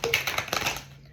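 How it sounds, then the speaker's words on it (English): A deck of tarot cards shuffled by hand in quick riffling bursts, a close, papery flutter of several rapid clicks that tapers off into quiet. "Let me shuffle real quick before I get started again"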